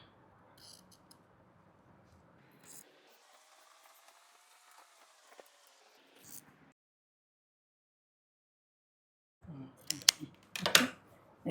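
Scissors snip and trim excess blouse fabric by hand, a few close crisp cuts and rustles, then a quiet gap before a short burst of louder snipping at the end.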